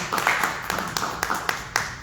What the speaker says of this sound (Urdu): آئیے خداوند کے کلام کے لیے ہم زوردار تالی بجائیں گے خداوند کے کلام کے لیے.